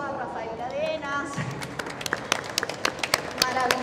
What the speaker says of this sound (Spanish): Yo pido un aplauso a Rafael Cadenas.